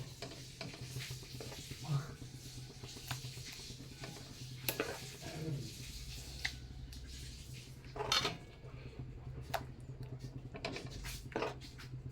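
Cooked semai payesh, a vermicelli milk pudding, is scraped and spooned from a metal pot into a bowl, with steady clinks and scrapes of utensils against cookware close up, a faint low hum beneath and occasional brief voice.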